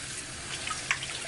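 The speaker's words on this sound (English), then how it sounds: "Rinse it out." Tap water rinses softened collard greens in a sink, a steady hiss of running water with a couple of faint splashes, close by and alone.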